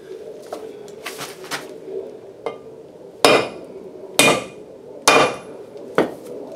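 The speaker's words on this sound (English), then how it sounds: "now we're ready to knock out these lugs" Hard metal hammer blows knocking wheel lug studs out of a hub on a 1985 Chevy K10 pickup, a few lighter taps followed by four loud, evenly spaced strikes, close up with faint bird calls behind.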